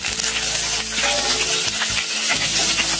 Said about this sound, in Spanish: Vamos a dorar el ají amarillo y el ajos. Para nuestro aderezo vamos a echar un poquito de aceite.